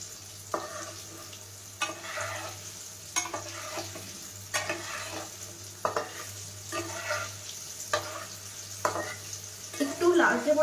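Garlic mushrooms deep-frying in hot oil over a raised flame, a continuous close sizzle broken by regular scraping stirs of a utensil in the pan, with faint speech in places.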